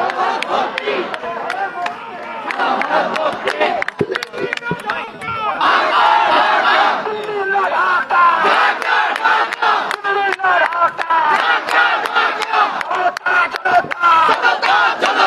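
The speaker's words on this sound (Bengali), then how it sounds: "শিক্ষার্থীরা বিভিন্ন স্লোগান দিয়ে কিন্তু আন্দোলনকে আরো মুখরিত করার চেষ্টা করছে" Crowd of students chanting slogans at a street protest, a continuous loud roar of many voices with rhythmic shouted calls and sharp claps or bangs scattered throughout.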